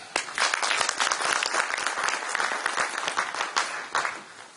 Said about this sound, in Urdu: آپ کی بھرپور تالیوں میں چودھری متین امتیاز